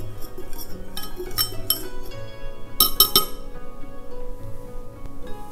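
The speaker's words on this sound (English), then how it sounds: "Whisk till very smooth." A whisk rattles against a bowl while ground mustard, miso, tahini, rice vinegar, maple syrup and water are mixed into a sauce, giving bright clinking taps in uneven bursts, close and clear with no talking.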